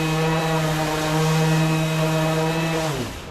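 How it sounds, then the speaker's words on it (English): A Makita GOB01CZ 6-inch cordless orbital sander with a 3/16-inch orbit runs with a steady, close motor whine for about three seconds, then winds down as it switches off. "So this is the brand new Makita 6-inch orbital sander."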